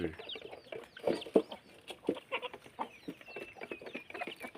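Several chickens and a fighting cock cluck and squawk at close range in a Thai village yard, giving a busy run of short, loud calls with brief pauses between them and no speech.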